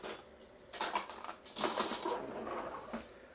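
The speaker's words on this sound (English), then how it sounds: "Put some dishes away while I'm waiting for my water to boil." Dishes and cutlery are put away in a home kitchen while water heats for chili dogs, giving a few close clattering bursts of clinking metal and crockery, separated by brief quieter gaps and with no talking.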